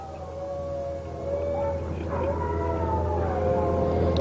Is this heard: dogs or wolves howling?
yes